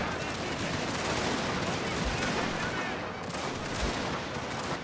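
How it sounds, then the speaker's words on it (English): Troops in a strategy war game fire on retreating enemies, making a dense, steady crackle of overlapping gunshots and volleys. The firing runs unbroken across the whole stretch, with a couple of heavier thumps standing out. "Because they're just firing at retreating troops."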